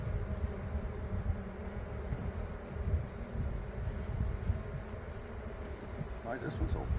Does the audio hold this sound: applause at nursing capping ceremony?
no